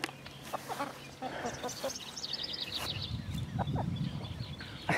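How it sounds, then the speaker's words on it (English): Backyard homestead chickens cluck in short, scattered calls under a steady outdoor background, with some bird chirps mixed in as the flock moves about a grassy run. "Yes, we do still have chickens."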